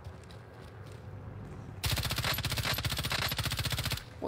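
M13 assault rifle fire in a Warzone Resurgence match, a sustained rapid full-auto burst of loud, evenly spaced shots running for over two seconds after a quieter stretch of ambient game noise.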